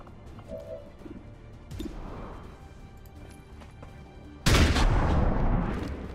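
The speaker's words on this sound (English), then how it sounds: "big old shotgun shot" A loud, close shotgun blast in the video game XCOM 2, one sudden booming report that stays heavy and slowly decays, after quieter game sounds.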